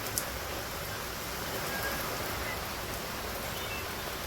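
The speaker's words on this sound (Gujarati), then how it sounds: "વરસાદ આવી ગયો છે" Steady rain falling, a dense even hiss of drops with no pauses, fairly close and constant throughout.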